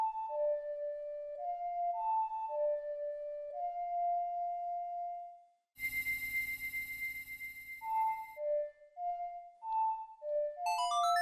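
The Song of Time from The Legend of Zelda: Ocarina of Time plays on ocarina, clear hollow tones in a slow lilting phrase, briefly interrupted by a loud burst of bright chiming game music before the tune resumes.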